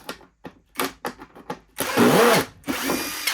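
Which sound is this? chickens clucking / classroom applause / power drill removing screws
power drill removing screws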